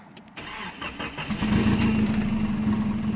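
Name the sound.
car engine starting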